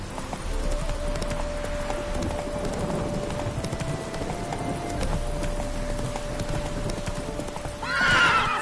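Roach the horse from The Witcher 3 gallops in a steady, fast clip-clop of hooves over a low background bed, with a sharp whinny breaking out near the end.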